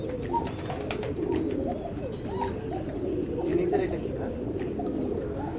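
Many pigeons coo softly together at a pigeon farm, a continuous low murmuring chorus with a few faint chirps and brief voices mixed in.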